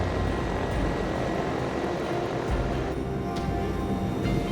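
A newly installed number 4 aircraft engine on a Navy plane running at high RPM, a loud, steady, close propeller-turbine roar that fills the whole clip with no pause.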